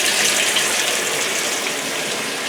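Water gushes steadily into a washing machine tub filling for a small laundry load, a constant loud splashing rush with no voices.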